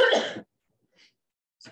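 A single harsh, close cough comes in a meeting room, followed by a couple of faint breathy sounds afterward.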